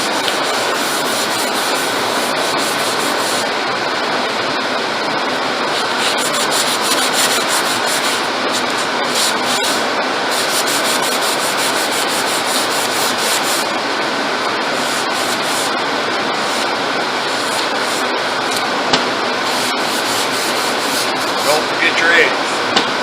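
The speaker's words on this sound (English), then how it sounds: "We're sanding with 320 grit paper." Continuous scratchy hand sanding with 320 grit sandpaper, a steady rasping rub that runs without pause over the whole stretch, close up and fairly loud.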